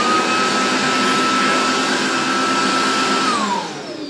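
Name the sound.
Riccar Tandem Air R40 vacuum cleaner running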